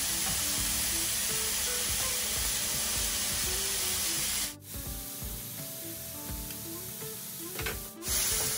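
Fresh garlic hits a hot pan of orzo risotto with mushrooms, giving a loud, steady close-up sizzle that drops briefly twice, as if the pan is stirred or moved.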